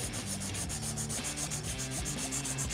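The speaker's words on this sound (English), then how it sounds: "the first step in our filing method is filing the free edge" A 180 grit file shapes the free edge of a hard LED gel nail extension, making quick, close, rhythmic scratchy rubbing strokes in an even back-and-forth pattern, soft and with no talking.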